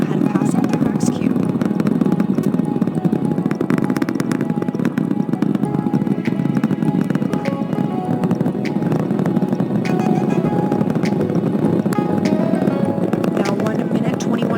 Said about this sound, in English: The 4 core stage engines throttling down ahead of passing through max Q.